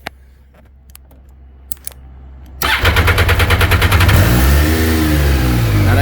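A 2014 MV Agusta F3 800 motorcycle engine idles quietly with a few clicks, then bursts into loud, rapid revving that pulses rhythmically before climbing into a sustained high-pitched roar close by.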